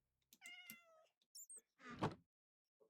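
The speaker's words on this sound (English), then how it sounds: "I'm hearing a cat." A cat meows a few times nearby, with short rising-and-falling calls amid brief thumps and pauses in a quiet indoor room.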